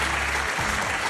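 A studio audience at a French comedy show claps in dense, continuous applause that fills the whole moment, loud and close.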